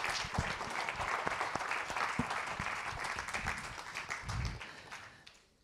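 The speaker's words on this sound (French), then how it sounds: "on peut à nouveau les applaudir, bien évidemment" A conference audience applauds at a French parliamentary science event, steady dense clapping from a sizable hall that holds evenly and then fades away toward the end.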